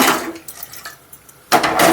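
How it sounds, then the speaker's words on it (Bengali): Water is poured into a pot of potato, papaya and gourd stems in a village kitchen, two short close splashing bursts separated by a quieter gap with faint clinks. "জল দিয়ে দিচ্ছি আর অল্প সেদ্ধ করে নেবো"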